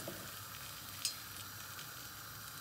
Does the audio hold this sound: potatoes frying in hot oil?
yes